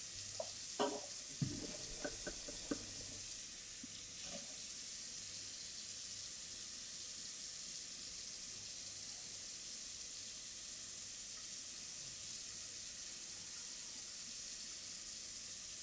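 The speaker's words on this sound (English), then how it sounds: "let me wash this knife real quick" A knife rinsed under a running kitchen tap, a steady soft water hiss with a few brief clinks and knocks in the first seconds, then continuous flow, fairly quiet and without talk.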